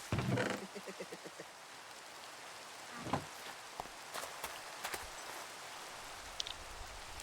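Rain in a video game, a faint soft patter on surfaces with scattered drip ticks, preceded by a brief burst of clicking at the start.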